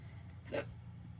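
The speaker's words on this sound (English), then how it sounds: "Oh, hiccups now." A single short hiccup comes from a person decorating indoors, a quick close burst rising briefly out of a low, steady background hum.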